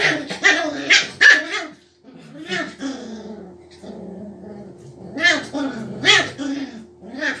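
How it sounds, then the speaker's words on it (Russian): A small dog barks and growls in short bursts nearby, with whimpery sounds and people talking in Russian over it. "У нас даже Ника гавкать научилась из-за него."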